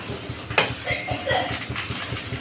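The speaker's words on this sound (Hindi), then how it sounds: "हाई फ्लेम पर बैगन को ऐसे पलट पलट के फ्राई करेंगे।" Brinjal pieces being turned and stirred in a pan over high flame, with the scrape and clatter of a spatula against the cookware under ongoing talk.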